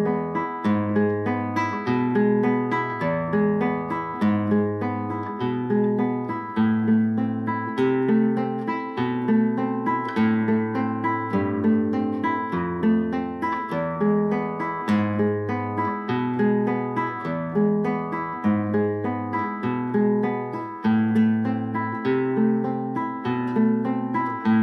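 A flamenco guitar plays a steady, repeating right-hand arpeggio pattern from Malagueña, individual plucked notes rolling evenly over a low bass note, close and clear throughout.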